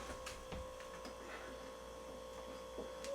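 A loud beer fridge hums indoors, a steady low mechanical drone with faint clicks and small knocks over it, no voices.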